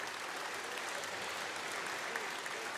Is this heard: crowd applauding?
yes